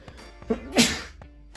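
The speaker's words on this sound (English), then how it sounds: "Sorry about that, had a little sneeze." A single sharp sneeze bursts out in a quiet room, a brief inhaled buildup followed by a loud explosive burst, with faint handling sounds around it.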